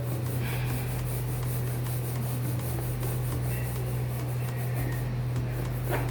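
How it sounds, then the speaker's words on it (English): A balloon rubbed briskly against hair for a static-electricity science experiment at home, giving a continuous soft scratchy friction noise over a steady low electrical hum. "We need to rub on our hair the balloon like this 5 to 6 times."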